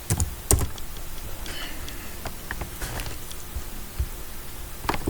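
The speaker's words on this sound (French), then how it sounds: "si je viens par exemple là, je tape Forex" A computer keyboard clatters with irregular, close-up key taps, bursts of quick presses and short gaps, over a faint steady room hiss, with no one speaking.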